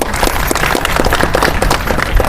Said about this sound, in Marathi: याच्यासाठी थिएटर मालकांसाठी टाळ्या वाजवा